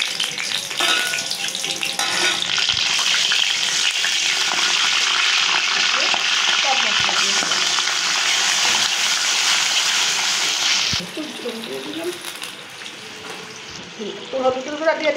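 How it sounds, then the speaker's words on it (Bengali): Bay leaves and green chillies hit hot oil with a loud, steady sizzle that roars for several seconds, then settles into a softer crackle as stirring begins. "তেলটা গরম হয়ে গেছে, তেজপাতা, কাঁচামরিচ দিয়ে দিই"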